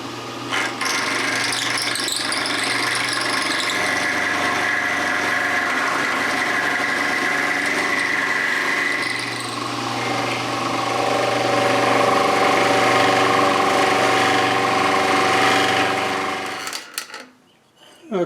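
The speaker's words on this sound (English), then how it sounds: "So right now, I'm going to mill that off." Milling machine cutting a metal block held in a vise. A steady, loud cutting drone with a high whine runs continuously, then cuts out abruptly near the end.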